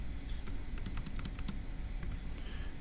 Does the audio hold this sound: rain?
no